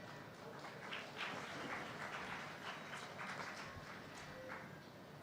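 Dense, steady clapping from a large audience at a Hindu religious discourse, a continuous crackling wash of many hands at moderate distance with no voices on top.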